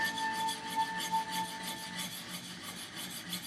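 A plane iron bevel rubbed by hand across a sharpening stone, producing a fast, even series of soft gritty scrapes, close and quiet with no voices.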